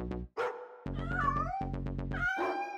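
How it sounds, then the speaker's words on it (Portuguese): A cat meows several times in a row, close and fairly loud, with a steady low hum running underneath. "Gatinho? Onde você está? Um gato perdido!"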